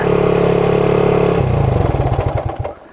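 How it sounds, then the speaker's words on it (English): A vintage motorcycle engine idling in neutral, loud and close, running steadily and then settling into a slower, uneven putter as the idle drops. "let me pop her back in neutral so you can get this idle down a little bit"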